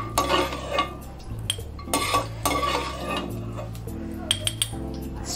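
A metal spoon stirs charoli nuts and cashews in a pan, giving repeated close clinks and scrapes against the metal in an uneven rhythm, with a steady low hum behind.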